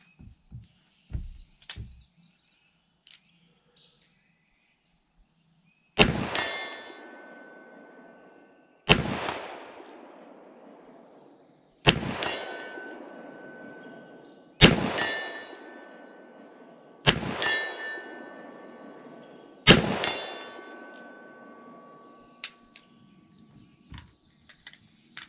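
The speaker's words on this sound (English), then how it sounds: "we'll take some shots at that 60-yard plate. I'm gonna go single action." Five single-action shots from a Smith & Wesson Model 10 .38 Special revolver at a steel plate 60 yards out outdoors, each sharp report followed by a ringing metallic clang and decay, evenly spaced a few seconds apart.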